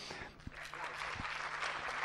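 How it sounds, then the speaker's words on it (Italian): Applause from the audience at a human resources forum opening session, a soft broad patter of clapping with a low hum beneath and a couple of thumps, moderately faint and continuous. "Applauso uno dopo l'altro"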